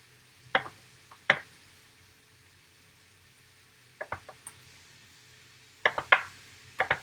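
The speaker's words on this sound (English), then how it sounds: "I'm going to cut some tofu up and start frying it" Knife strokes cut through tofu on a board, in short bursts of two or three chops separated by pauses, close by with no talking.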